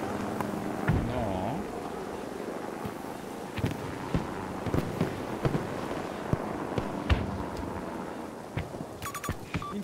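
Sniper rifle gunfire in the Battlefield 2042 video game: sharp, isolated cracks ring out at irregular intervals over a steady rumbling battlefield ambience.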